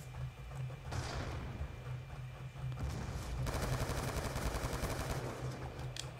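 M27 assault rifle fire in Black Ops 2 multiplayer, rapid automatic bursts close up, building into a sustained rattling stream of shots with other gunfire around.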